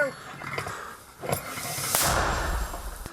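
A single loud, sharp blast from a smoothbore mortar firing a Ukrainian-made round booms out in the open near Chasiv Yar, followed by a rushing, rumbling tail as the echo rolls away.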